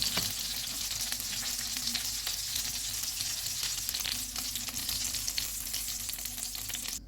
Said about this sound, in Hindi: कबाब फ्राई हो गए हैं, इनको निकाल लेते हैं।